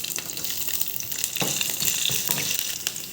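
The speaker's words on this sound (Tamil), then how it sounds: "மசாலா வறுத்துக்கலாம்." Spices roasting in coconut oil in a kadai, a constant close sizzle with intermittent scraping stirs from a spatula, loud and steady with no talk.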